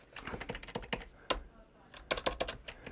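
Fingers tap a computer keyboard in two quick bursts of rapid, fairly quiet key clicks separated by a brief pause.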